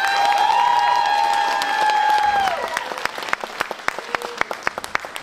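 A school crowd applauds a high school marching band at a holiday concert. Sustained tones ring out at first, then fade into scattered, sharp individual claps that thin out toward the end.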